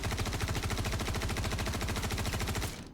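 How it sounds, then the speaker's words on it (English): Steady rapid automatic fire from a weapon in Star Citizen, a long even stream of evenly spaced loud shots that stops abruptly near the end. "And then, of course, you would be shooting in bursts."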